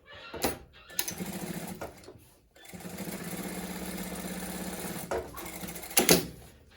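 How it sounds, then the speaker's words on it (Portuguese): A sewing machine stitching a zipper onto fabric in short runs, a close steady mechanical whir that starts and stops, with a long continuous pass in the middle and a few clicks between runs. "Eu vou passar uma costura aqui pra fixar ele na parte de baixo."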